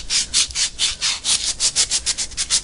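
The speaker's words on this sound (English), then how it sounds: "So you can take a piece of sandpaper, this is 80 grit, and this is an aluminum rod, so it'll come off pretty quick." 80 grit sandpaper wrapped around an aluminum rod shaft and rubbed back and forth in steady, rhythmic strokes, about a dozen close, raspy passes with no talking.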